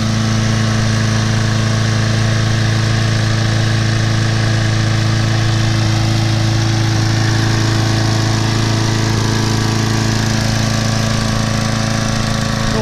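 A Sears Craftsman lawn mower with a Briggs & Stratton engine runs loud and close, a steady, unbroken engine drone throughout.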